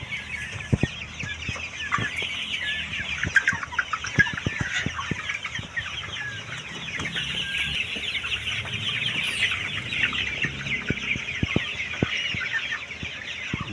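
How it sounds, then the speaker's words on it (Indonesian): KUB 2 Janaka chickens, 45 days old, cluck continuously in a poultry house, with many overlapping calls and soft pecking ticks, a busy flock heard nearby with a faint steady hum underneath. "Ini sekarang umur 45 hari ayam KUB 2 Janaka kita."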